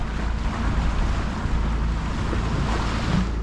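On a boat motoring across Lake Ontario, heard from the bow, waves wash against the hull under a low rumble and gusting wind noise, loud and continuous.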